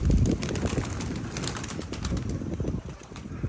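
Pigeons coo and shuffle nearby, soft bird calls mixed with occasional wing flaps over a constant dense background, with no voices.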